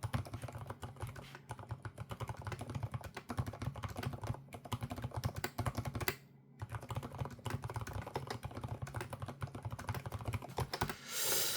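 Rapid typing on a Keychron K8 Pro keyboard with silent red switches makes a dense, continuous patter of soft key clacks, close up, with one short pause midway.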